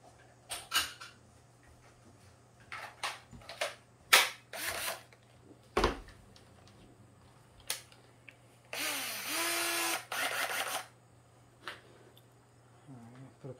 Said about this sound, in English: grab the screw gun,